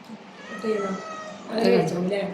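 A cat meows twice close by, short drawn-out cries, with faint background noise.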